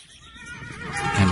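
A horse whinnies once, a short, bright neigh that swells louder toward the end.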